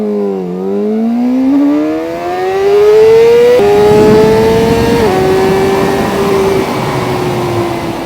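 A KOVE 450RR motorcycle engine revs hard and climbs through the gears, its loud, high-pitched wail rising and then dropping at each shift, close and sustained with no talking.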